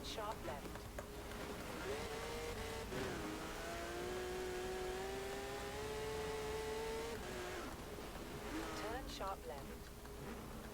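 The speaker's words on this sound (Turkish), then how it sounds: "Egzoz sesi bir muhteşem ya arabanın." A Porsche 911 GT3 RS engine in Forza Horizon 4 drones steadily and rises in pitch as it revs, with a steady exhaust whine running underneath and a voice talking over it.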